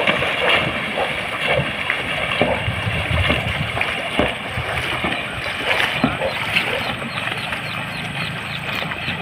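Ghe ngo racing boat crew paddling hard in training before a race, with rhythmic splashing of many paddles and sloshing water close by, mixed with shouting and voices throughout.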